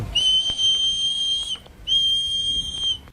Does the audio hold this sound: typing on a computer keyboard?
no